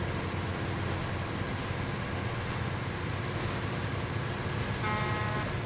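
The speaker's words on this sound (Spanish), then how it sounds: "Eso es una bocina." In the SnowRunner truck-driving game, a steady engine drone runs throughout, and a brief truck horn sounds near the end.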